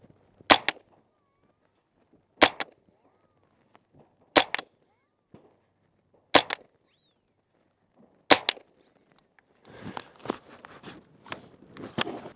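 Six sharp gunshots from a Smith & Wesson M&P 15-22 Sport .22LR rifle ring out alone at roughly two-second intervals, each a crisp loud crack with a short tail. Rustling handling noise follows the last shot.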